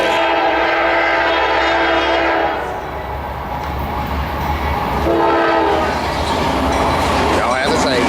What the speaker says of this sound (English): Coming south on track 1 by Gastonia Station. This will be NS 213.